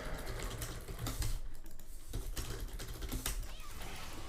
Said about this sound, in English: I was typing too much.